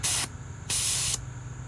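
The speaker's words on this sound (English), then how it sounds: "It's got a little bleed valve here, so there's some pressure in there. I can take that out." Two sharp bursts of air hiss from a tire's bleed valve, each about half a second long and separated by a short pause, loud and close with no voices.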